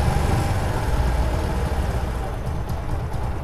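A motorcycle engine idles close by as its choke is loosened, a loud, dense low rumble that holds steady throughout.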